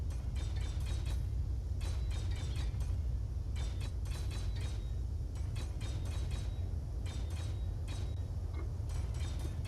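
Welding of a fighter ship in Space Engineers gives a steady low mechanical hum with rapid ticking, clicking bursts repeating throughout, fairly quiet and without speech.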